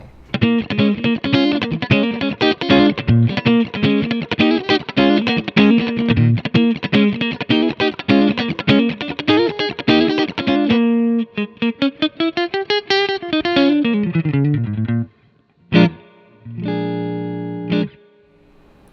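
Electric guitar played through a Strymon El Capistan V2 tape delay pedal: a fast run of picked notes with repeating echoes, then a sustained bending tone, a brief pause and two short echoing chords.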